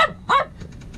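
A dog aboard a sailing boat gives two short, close barks in quick succession, followed by faint yips.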